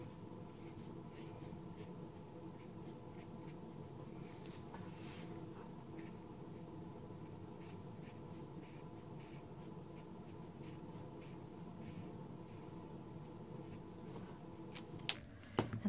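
A Stampin' Blends alcohol marker in balmy blue light being drawn over paper, giving a steady, faint scratchy rubbing that runs on continuously at close range, ending with a few soft taps.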